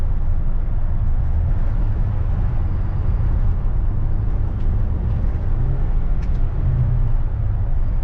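A 2009 Toyota Camry 2.5 with a dead cylinder cruises at speed past 40 mph, giving a steady, loud broadband road and engine roar that stays even from start to end with no voices.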